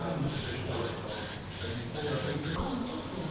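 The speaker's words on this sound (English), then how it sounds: "just gonna spray bomb this because it looks a little crusty" A spray can hisses in short, steady bursts separated by brief pauses as paint goes onto a car boot, close and fairly loud.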